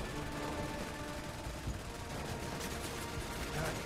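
Dense, steady crackle of video game gunfire holds for a few seconds at a low, fairly even level, with bursts that blur into continuous automatic fire and no voices on top.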